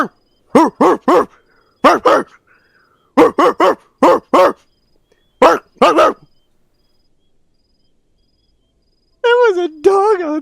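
A human voice imitating a dog, letting out clipped barks in quick clusters of two or three, loud and close, followed after a pause by a higher, wavering whine-like yelp.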